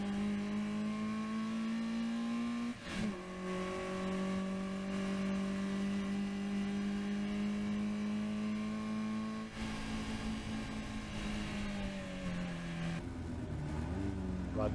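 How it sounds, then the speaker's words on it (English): A Caterham race car engine drones loud and close at Oulton Park as it climbs the long uphill drag toward Druids, its pitch rising steadily through the gears. There is a brief dip near the start and a shift partway through, with a commentator talking over the engine. "You need to get on the gas. It's a long drag up the hill towards Druids."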